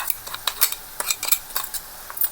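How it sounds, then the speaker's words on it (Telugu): Garlic chili powder tipped into frying onions in a pan over low heat, a metal spoon clinking and scraping against the pan in a quick irregular series of sharp taps, close and clear. "వెల్లుల్లిపాయ కారం ఇది వేస్తున్నానండి"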